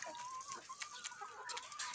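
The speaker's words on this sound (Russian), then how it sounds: "Вон несколько штук петушков." A group of young free-range roosters cluck and give short crowing calls. Several birds overlap in a busy, steady chatter at moderate distance, and no one speaks.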